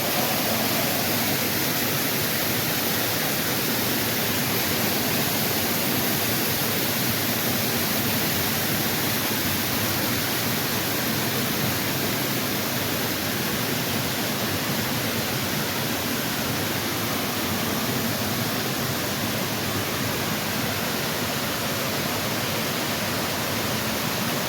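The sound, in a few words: waterfall on a North Georgia hike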